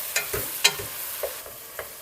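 Sausage and beef stirred in a hot pan with vegetables, a wet sizzle broken by several scraping stir strokes at an uneven pace, close and fairly quiet.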